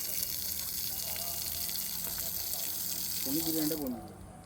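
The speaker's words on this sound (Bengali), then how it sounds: "এই আমাদের এখন মাংস মাংস মাংস ধোয়ার কাজ চলছে" Raw chicken meat is washed under running water, a steady close gush and splash that continues until it tapers off near the end, with a voice speaking briefly partway through.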